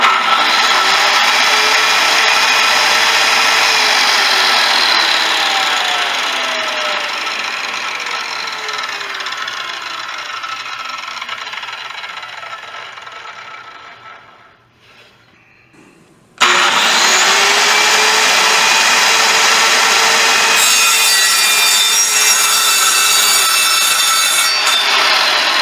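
Circular saw running at full speed, loud and steady with a whine that sags and drops off near the middle, then restarts abruptly and holds at full pitch to the end, with no voices.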